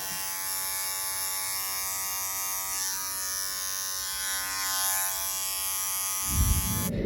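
Electric hair clippers work over a taper haircut, giving a steady close buzz with a faint shifting pitch as they pass over the hair, followed by a short handling rustle at the end.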